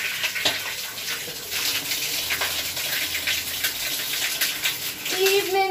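Shower water runs in a steady hissing spray, loud and close, while a person sings along over it.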